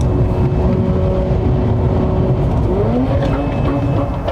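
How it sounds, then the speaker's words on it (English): A loud car engine roars and revs continuously, its pitch climbing and shifting toward the end, close by. "Please don't blow the engine up, though, Taylor."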